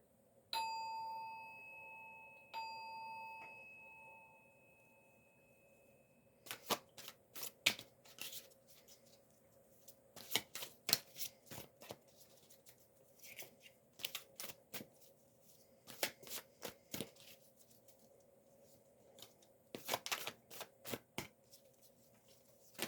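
A few soft chimes ring at first, then tarot cards are shuffled in quick bursts of crisp riffling and flicking, close and fairly quiet, with short pauses between.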